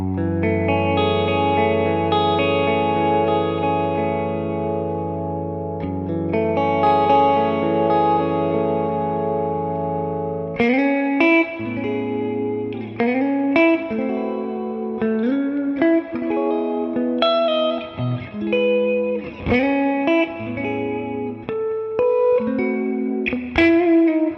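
A Gibson 1955 Les Paul electric guitar on its neck pickup rings out a sustained chord, then plays a series of picked notes and short phrases in a warm, rounded tone.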